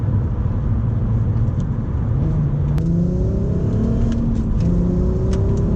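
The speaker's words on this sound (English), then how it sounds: "that sound, of course it's amplified a bit by that Miltec exhaust system, but man, that sounds good" A Volkswagen Golf Mk4 R32's Miltec exhaust revs up with a rising, throaty roar that swells and climbs in pitch, loud and close.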